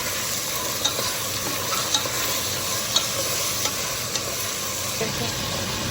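A pot of sambar with finely chopped potatoes, carrots and drumstick gives off a constant loud hiss and bubbling, with faint, regular scrapes of a spoon stirring through it.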